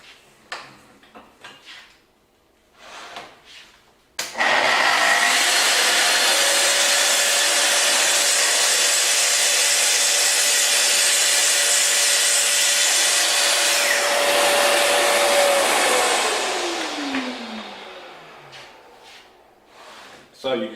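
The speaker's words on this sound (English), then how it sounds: "we have a fine splinter-free cut on melamine surface using the TS55" A Festool TS55 plunge track saw cuts through melamine board. A few knocks and handling sounds come first, then a loud, steady whining cut lasts over ten seconds and winds down as the motor spins down.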